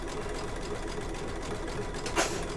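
An embroidery machine runs continuously, stitching out a lace design with a fast, even mechanical whir and needle patter, close and steady throughout with no voices.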